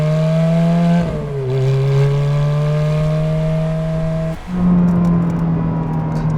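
A Ferrari F430 engine holding a loud, steady drone, dipping briefly in pitch near the start, then sustaining before a short lift and a return to the same strong, close hum.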